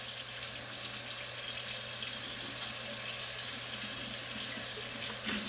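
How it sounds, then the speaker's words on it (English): Hot water runs steadily from a kitchen tap, rinsing soapy Ninja Creami parts in a sink, with a constant hiss and splash and no voices. "Just let the hot water rinse it all off."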